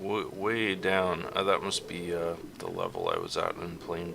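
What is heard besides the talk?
No everyday noises stand out.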